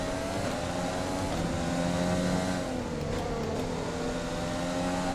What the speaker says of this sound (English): Hope you guys enjoy the engine sounds of these cars as much as I do.